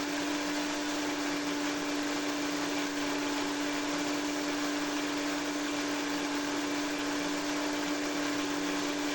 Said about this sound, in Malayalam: മിക്സിയുടെ ജാറിൽ നമുക്കിതൊക്കെ ഒന്ന് അടിച്ചെടുക്കാം